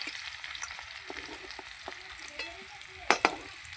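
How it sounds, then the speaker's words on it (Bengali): Papaya, carrot and sweet potato fry in oil for shukto, giving a steady bright sizzle with scattered light scrapes and two sharp utensil taps near the end. "শুক্তোতে সবজি কিন্তু খুব ভালো করে ভাজতে হবে"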